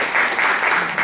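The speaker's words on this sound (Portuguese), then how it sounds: "eu quero que vocês ofereçam uma salva de palmas para essa personalidade e para esta outra" Audience applause at an international academic colloquium on Edith Stein at a university in Ceará, a steady, full burst of clapping from a seated crowd, loud and sustained throughout without voices over it.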